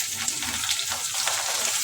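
Chopped onions sizzle and crackle steadily in a hot pan for a bitter gourd tamarind curry, a close, continuous frying hiss with small pops.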